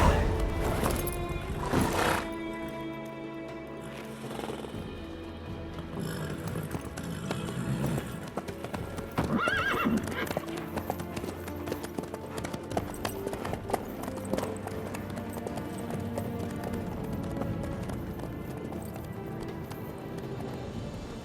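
A horse galloping in The Witcher 3, its hooves beating a steady, rapid clip-clop that runs throughout over a dense, full background of other game sound.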